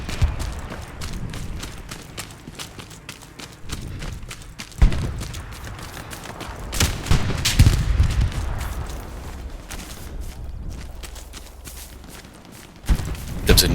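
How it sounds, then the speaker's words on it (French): Scattered gunshots and rifle fire from the World War II shooter game Hell Let Loose crack at varying distances, with occasional heavier bursts and movement sounds between them. "Attention, ça tire sur Verping"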